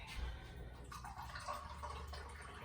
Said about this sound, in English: So I'm just adding a little more water.